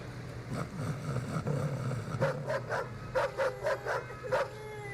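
Puppies and their mother dog yip and bark from a played recording, a cluster of short high barks in uneven bursts over a steady background hum.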